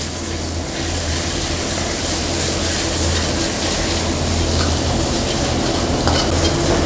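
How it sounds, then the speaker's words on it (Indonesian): A blended paste of shallot, garlic and pepper sizzles and fries loudly in hot oil, with constant crackling and the scrape of stirring running throughout, close and busy with no voices. "Kita tumis bumbunya sampai harum."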